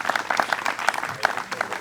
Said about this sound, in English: Let's give another round of applause to our speakers this evening.